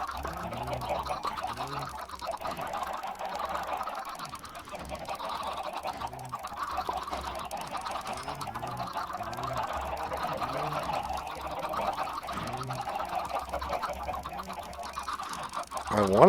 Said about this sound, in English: I'm stuck in a mass of chickens.